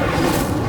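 An Incendio fire spell cast in Hogwarts Legacy: a short, dense roaring burst of flame, loud and steady for under a second with no pauses.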